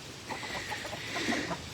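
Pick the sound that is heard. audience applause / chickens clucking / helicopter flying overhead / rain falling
chickens clucking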